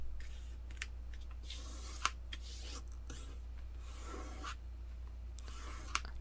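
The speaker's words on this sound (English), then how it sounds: "Press down the paper." Paper being folded and pressed flat while making a long-range paper airplane: quiet, close rustling and rubbing strokes with a few sharp crisp ticks, alone without voices.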